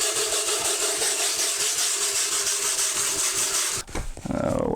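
Steady, loud rasping scrape of a tool over mortar in a shower pan, continuous for about four seconds, then a brief clunk and the scraping resumes.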